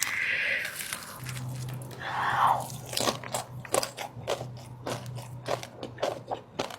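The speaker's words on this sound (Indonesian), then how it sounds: "Jadi kali ini mau makan nasi padang payakumbuh pakai dendeng mamaku lagi." Loud close-up crunching and chewing of nasi padang payakumbuh with dendeng and crispy potato crisps, a run of sharp repeated bites and crackly chews with a steady low hum beneath, no talking.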